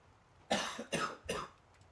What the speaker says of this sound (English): coughing.